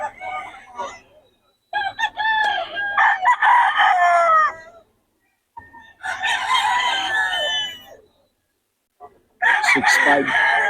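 A young gamefowl stag rooster of Boston and Gilmore bloodline crows repeatedly, three or four loud, close cock-a-doodle-doos separated by short pauses.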